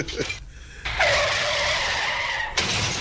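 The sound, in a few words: car braking and tires skidding sound effect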